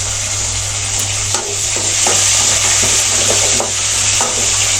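Curry leaves and green chili frying in hot oil for Tamil wheat rava upma, a loud steady sizzle with occasional stirring scrapes of a spoon against the pan, no voices.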